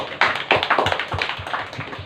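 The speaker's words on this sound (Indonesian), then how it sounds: "Tepuk tangan untuk beliau dulu." A small audience at a meeting gives a short round of clapping, with uneven, fairly close claps that gradually thin out.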